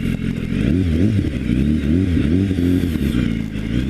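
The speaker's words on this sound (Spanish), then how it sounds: "déjenme hacerles el 0 a 100, que en esta moto debe estar en unos 3 segundos" A BMW S1000RR superbike accelerates hard from a standstill toward 100 km/h, its engine note climbing in quick rising sweeps through successive gear changes, loud and close.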